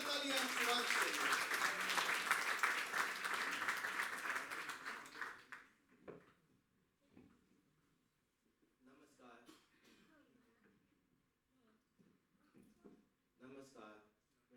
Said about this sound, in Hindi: एक बार जोरदार तालियां शिवांश के लिए।